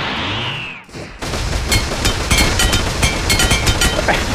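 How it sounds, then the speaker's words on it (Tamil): Rapid automatic gunfire from a BGMI/PUBG match, a dense fusillade of shots with sharp cracks after a brief swoosh, loud and continuous with no talk. "இவருங்க என்ன மாதிரி ஷூட் பண்ணுறாங்கன்னு பாருங்க மக்களே"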